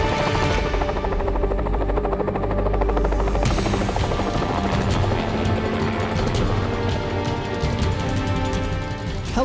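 A helicopter's rotor thumps loudly and continuously, close overhead, with a steady roaring engine beneath the rapid chopping beat, during a bighorn sheep capture operation.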